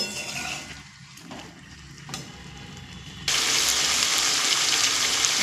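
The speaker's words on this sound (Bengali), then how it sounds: "মিডিয়াম ফ্লেম করে খুব সুন্দর করে চিকেন আর আলু কষিয়ে নেব" Chicken and potato pieces fry on a medium flame, a steady close sizzle that jumps sharply louder and brighter partway through as the pan hisses harder, with no talking.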